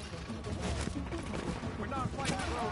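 Gunfire in the video game The Division, a rough series of fairly quiet shots and bursts in a game mix, with speech-like sound nearby.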